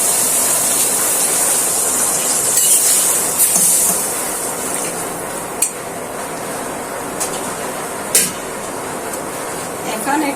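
Chicken bhuna frying in a pan as a splash of water goes in, giving a steady broad hiss and sizzle with a few sharp crackles and spits near the end, loud and close.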